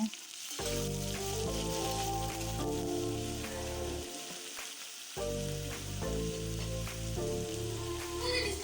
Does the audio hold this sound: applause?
no